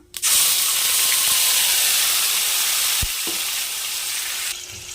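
Ground betel leaf rasam paste with curry leaves frying in a hot pan, a loud, steady sizzle and hiss that holds for several seconds, with a brief knock of a utensil partway through.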